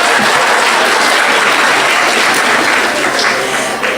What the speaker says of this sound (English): the boys are clapping